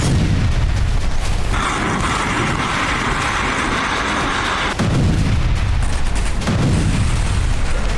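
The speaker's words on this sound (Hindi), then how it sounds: "रूसी सेना ने T-80 टैंक से विध्वंसक हमले कर यूक्रेन के 3 सैन्य वाहनों को तबाह" A T-80 tank fires in a military attack, producing loud, dense booming and rumbling blasts that roll continuously through the stretch, with a harsher roaring middle section and no speech.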